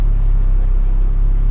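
An Audi car's engine rumbles steadily while driving on the Millbrook test track, a loud, constant low drone heard from inside the car with no talking.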